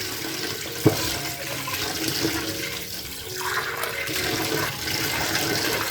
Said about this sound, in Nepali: चिसो पानीले यसलाई हामीले पखाल्छौं